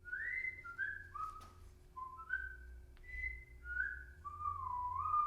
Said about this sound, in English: I'm whistling Sesame Street